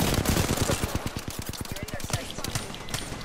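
Rapid automatic gunfire from the video game Apex Legends rattles off in a long, evenly spaced burst of sharp shots, loud and close.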